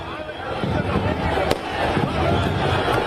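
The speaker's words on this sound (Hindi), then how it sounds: "जगह जगह पर आतिशबाजी का दौर देखने को मिला" Fireworks celebrating India's cricket win crackle and pop continuously, fairly loud, with a sharp burst midway and a crowd babbling underneath, while a voice speaks over them.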